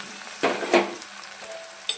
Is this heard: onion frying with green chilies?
yes